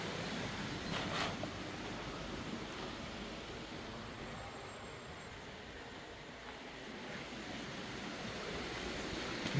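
A river flows right beside a campsite in Conques on the Compostela trail, a steady broadband rush heard close and continuous, with no one speaking.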